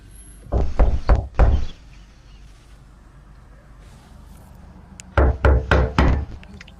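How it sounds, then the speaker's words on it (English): Loud, heavy pounding on a house door during a heated confrontation, coming in two forceful bursts of four or five rapid blows separated by a few seconds of quiet. "Open this door, I'm breaking it fucking down."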